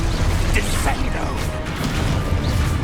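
A Descendo spell from the video game Hogwarts Legacy slams down with a loud, heavy crash and mechanical clatter that stays dense and forceful throughout.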